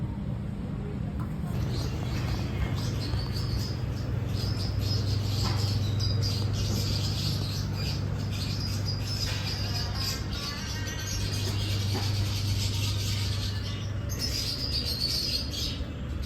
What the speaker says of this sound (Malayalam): എവിടെയാണ് ഈ പക്ഷികൾ കരയുന്നത്?